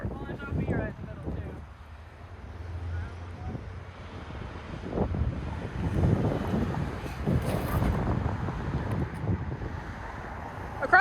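Wind buffets the microphone in low rumbling gusts on a golf course, with muffled voices and faint outdoor noise mixed in throughout.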